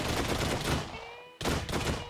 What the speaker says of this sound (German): Er schießt! Digga, so ein Gewehr ist fucking unfair